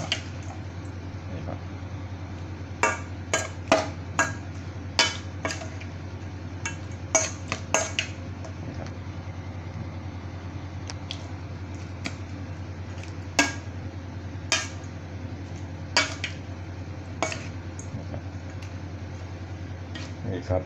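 Crispy fried snakeskin gourami salad is tossed in a metal mixing basin, with sharp scattered clinks and taps of utensils against the bowl over a steady low hum, while someone talks.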